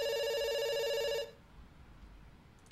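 A telephone rings in the video game Dr. Langeskov, The Tiger, and the Terribly Cursed Emerald, a bright, steady electronic trill that stops after about a second, leaving quiet room tone and a short knock at the end.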